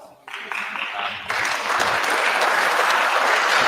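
Applause breaks out in the congressional chamber during the electoral vote count, swelling from scattered clapping into a loud sustained wash of many hands that keeps building.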